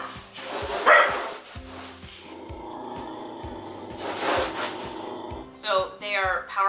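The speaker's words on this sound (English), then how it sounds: "If you hear some water splashing on the windows or the dog barking, just ignore it." A dog barks indoors in an apartment while the complex is being power washed outside, giving a few short, sharp bursts over a steady background hum.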